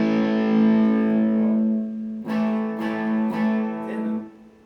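Distorted electric guitar played through a multi-effects pedalboard: a long, sustained overdriven chord rings out, then three sharp strummed hits follow, loud and alone.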